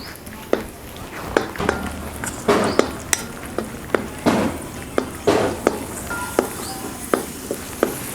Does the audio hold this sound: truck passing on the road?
no